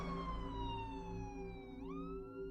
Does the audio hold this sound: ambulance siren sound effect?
yes